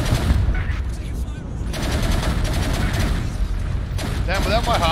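Gunfire from weapons in the video game Angels Fall First, a rapid, continuous rattle of shots with mechanical clatter throughout, loud and close, with a voice talking over it.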